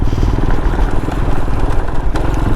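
Royal Enfield Himalayan single-cylinder motorcycle engine pulling hard with the throttle opened on sand dunes near Erg Chebbi, Morocco, a loud continuous close-up drone with rough wind-buffeted texture.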